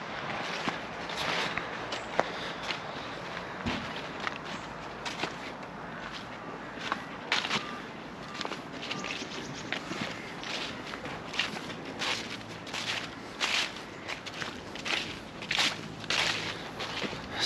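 Footsteps of someone walking up a hill outdoors in England, a steady series of close crunching steps over a constant outdoor rustle, with no speech.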